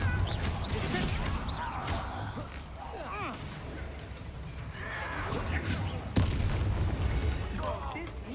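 A Confringo blasting spell from Hogwarts Legacy bursts with heavy booming explosions and crashing impacts, loud and repeated amid combat noise and a voice.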